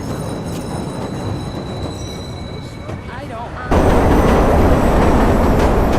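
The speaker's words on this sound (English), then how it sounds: "Southbound train arriving shortly." Train rolling into a station in the Watch Dogs video game, a steady rumble with squealing wheels that suddenly swells much louder and closer as it arrives.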